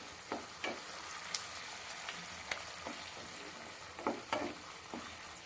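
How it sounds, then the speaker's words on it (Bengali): Cumin, chili and tomato fry in oil for a spiced small-potato curry, making a faint steady sizzle with scattered soft stirring taps against the pan and no voice. "একটু ভালো করে কষিয়ে নিতে হবে যতক্ষণ না তেল ছাড়ছে"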